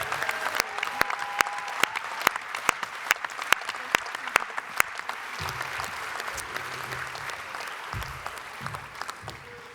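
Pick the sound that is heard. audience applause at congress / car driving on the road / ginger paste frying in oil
audience applause at congress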